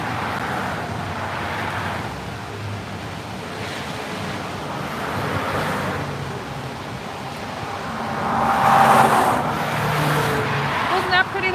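Cars speeding by at roughly 90 along a Colorado highway, heard as broad rushing whooshes that swell and fade, with a louder pass near the end, mixed with steady wind buffeting the microphone outdoors.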